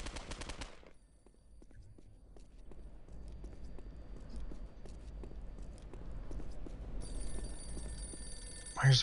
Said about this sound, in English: Oh my god, with the stupid phones. It's the most annoying sound on the planet.